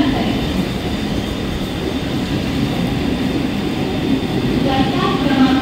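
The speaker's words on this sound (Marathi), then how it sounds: "एक जलद गाडी जाणार आहे." A fast local train rushes through a Mumbai Central line station at night, a loud continuous rumble and rattle of wheels on rails throughout, with a platform announcement voice faintly underneath.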